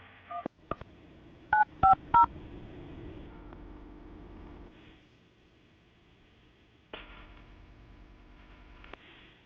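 A telephone is dialed to place a call, producing a quick series of crisp touch-tone beeps. Clicks come first, then the tones, followed by a quiet line hiss and faint handling noise.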